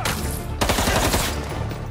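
Gunfire from paparazzi wielding guns in the Spider-Man 2 video game, a loud continuous burst of rapid shots over dense game noise, close and steady throughout.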